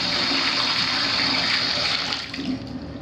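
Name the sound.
shower water running, diverter leaking through the nozzle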